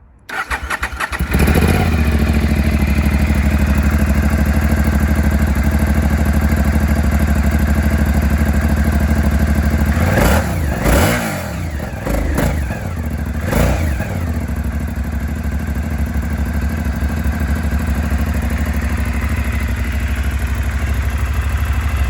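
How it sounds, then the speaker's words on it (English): A 2013 Aprilia Dorsoduro 750 Factory motorcycle fires up and idles with a loud, steady stock-exhaust rumble, then revs sharply a few times before settling back to a smooth idle, close by. "So stock bike sounds good."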